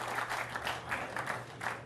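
Audience applause at a boys' state finals game, steady dense clapping from a large crowd in an arena, filling the whole stretch with a continuous wash of claps.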